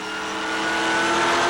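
Race trucks roar past on a Las Vegas speedway oval during a 2001 speed truck series race, a loud, rising engine drone swelling as they pass with no speech.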